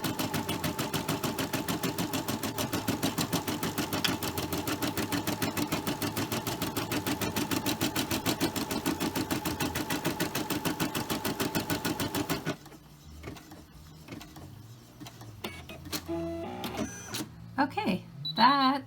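An embroidery machine stitching the placement line on fabric in the hoop, a fast, even mechanical rattle of needle strokes that runs steadily for about twelve seconds, then stops, leaving quiet handling sounds and a voice speaking.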